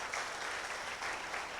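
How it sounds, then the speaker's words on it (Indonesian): Audience applause at a church revival night service, a soft, steady patter of clapping heard from a distance throughout the short moment. "Tepuk tangan dong buat Indonesia."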